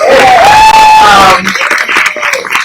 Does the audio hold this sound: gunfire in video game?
no